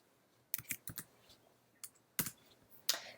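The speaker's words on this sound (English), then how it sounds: "We could type it in here." Keys clack on a computer keyboard in a quiet room, a few scattered taps, then a quick pair and a last isolated press, close and crisp with no talking.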